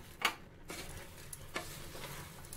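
Rice being stirred and roasted in a pan for a mixed-vegetable tehari, soft scrapes and a faint sizzle heard quietly and close, with no voices.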